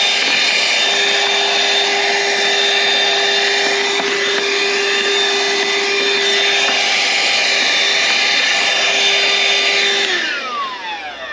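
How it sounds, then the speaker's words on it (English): A vacuum cleaner hoovers out the air filter housing of a Volvo XC40 during a service, whining loudly and steadily up close for about ten seconds before winding down at the end. "One thing I like to do quickly before I put the new one in is just give it a hoover."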